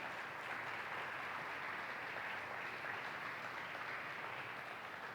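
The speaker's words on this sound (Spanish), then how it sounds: "Dale palmas al rey, no te quedes con las ganas" A church congregation claps for the king during a pastor's sermon, a steady, continuous wash of applause with no voices over it.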